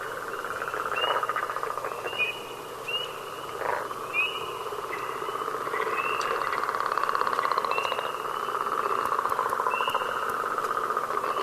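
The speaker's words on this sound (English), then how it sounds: "This is the northern leopard frog." Northern leopard frogs call in a steady chorus of snoring, rattling croaks, with repeated trilling notes layered over a continuous background of other calling frogs at an evening nature setting.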